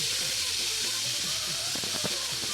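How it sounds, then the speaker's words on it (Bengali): Pressure cooker cooking rice, a loud steady hiss of escaping steam throughout with faint knocking and rattling underneath. "দুই সিটি মারলে নামাই দিব ভাত আমি"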